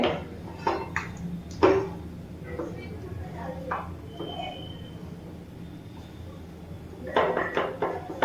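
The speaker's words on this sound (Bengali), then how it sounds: "এবার একটু নাড়াচাড়া করে নিচ্ছি যাতে ঠান্ডা হয়ে যায়।" A spoon stirs melted chocolate ice cream mixture in a pot, giving scattered clinks and scrapes against the metal at irregular intervals, close and moderately loud, with soft talking in between.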